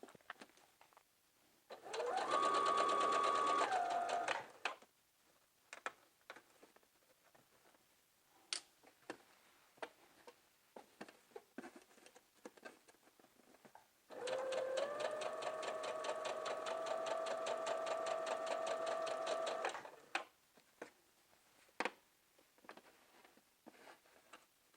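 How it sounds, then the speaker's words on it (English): A sewing machine stitches a maxi skirt in two loud, steady runs, a short burst and then a longer stretch ending in a backstitch, with quiet handling clicks and rustles between. "sew down as far as it will go, and then backstitch"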